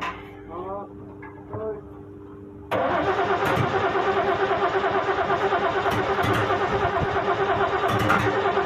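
A brand-new, zero-kilometre Ford Falcon engine fires up for the first time after a few seconds of quiet voices, then runs loud and steady, a rough continuous roar with a slight pulse that lasts to the end.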